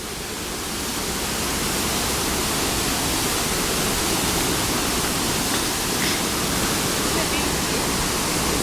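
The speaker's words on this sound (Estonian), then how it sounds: "Ja nüüd me lähme siia Windermere'i juures koske vaatama." A waterfall near Windermere roars as a loud, steady wash of broadband noise that swells slightly at the start and then holds constant throughout.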